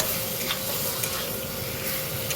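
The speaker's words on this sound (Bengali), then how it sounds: "চিনিটা দিয়ে একটু ভালো করে কষিয়ে নেব চিনি আর লবণটা" Potatoes with sugar and salt sautéing in a pan for dhokar dalna, a steady close sizzle with occasional soft stirring scrapes.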